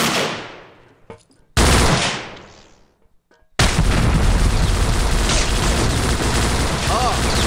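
A grenade explosion and gunfire in the Vietnam shooter Vietcong: loud booming blasts fading out in tails, a sudden second explosion, then sustained heavy gunfire and rumble, with voices talking over the fighting.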